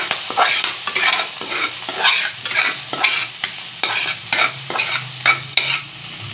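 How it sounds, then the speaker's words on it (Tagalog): Meat sautéing in a hot pan for laing, stirred repeatedly with scrapes and clatters over a steady close sizzle, no voices. "igigisa na natin ang ating laing"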